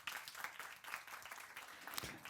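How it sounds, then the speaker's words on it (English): An audience at a creative mobility forum applauding a speaker, a quiet, steady patter of many hands clapping throughout. "Please give her applause."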